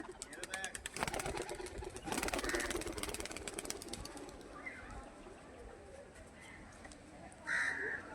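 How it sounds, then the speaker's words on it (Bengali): Three pigeons freed from a loft, with wingbeats and flutter as they lift off, plus nearby cooing and bird calls in a busy outdoor setting. "3 পিস পায়রা ছেড়েছে। এরা মনের আনন্দে উঠছে পুরো, ছাড়া পেয়েছে একদম।"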